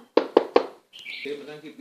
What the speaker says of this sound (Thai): ใครมาเคาะประตูบ้าน